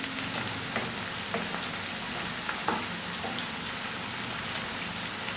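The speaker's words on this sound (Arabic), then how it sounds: "نخلي داك الساعه الفلفل تشحر على خطره" Peppers fry in oil in a pan with a continuous crackling sizzle. Scattered pops and spits sound over a dense, rain-like hiss.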